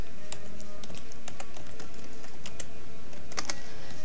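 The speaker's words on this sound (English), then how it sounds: "So in Google, type in Project 64." Keys clatter on a computer keyboard in a quick, irregular run of close taps over a constant background hum.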